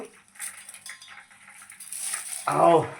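Green chilli chicken fry with curry leaves being mixed in a pan, soft metallic scrapes and clinks of a utensil, closing with a brief spoken voice.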